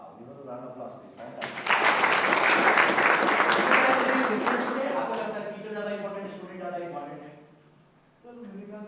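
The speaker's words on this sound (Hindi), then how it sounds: "give us a round of applause, please" Audience applause at an institute talk event, a dense wash of clapping that swells, holds for several seconds, then fades while speech and crowd voices continue underneath.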